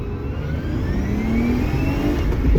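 A car fitted with polyurethane motor mounts accelerates on its first test drive, its engine note climbing steadily as it revs up under a loud, continuous road and cabin rumble heard from inside; no talking.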